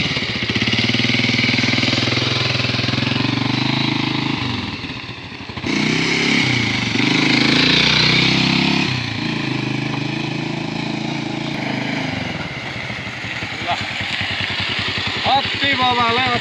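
A new motorcycle's engine and exhaust are heard while it is being ridden. The loud, close drone holds steady, then shifts in pitch as the throttle changes, with a brief dip partway through.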